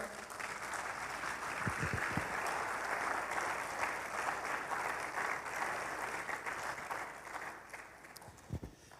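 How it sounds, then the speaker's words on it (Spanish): A church congregation at a Sunday family service applauds for the Lord, a sustained wash of clapping from many hands, fairly distant, with a few louder claps and murmured voices mixed in. "¿Cuántos le dan un fuerte aplauso al Señor?"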